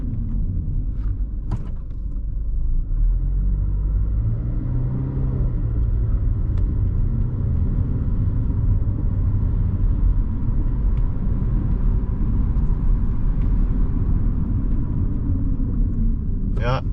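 A 2009 Pontiac Vibe car climbs a hill, its engine and road rumble heard steadily from inside the cabin, with a brief faint knock near the start.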